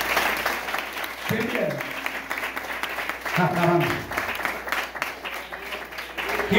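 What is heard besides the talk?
church congregation applause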